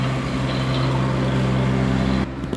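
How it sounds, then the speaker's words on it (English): A tree service crew's machinery drones nearby with a steady, loud engine hum that cuts off abruptly near the end. "Sorry about the noise from the tree people."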